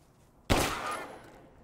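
A gunshot in Resident Evil 8 breaks sharply out of near silence, then a reverberant tail trails off over the following second.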